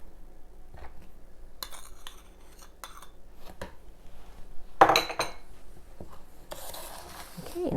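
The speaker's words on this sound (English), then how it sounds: "now we're just going to mix that butter into the" A utensil scraping and clinking against a 9-inch pie plate as melted butter is mixed into a key lime pie crust, with soft gritty rubbing and a few sharper taps close by.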